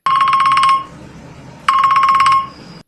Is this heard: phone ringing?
yes